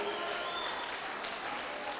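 Congregation in a church claps together in a steady burst of applause, a dense, even patter of many hands lasting a couple of seconds.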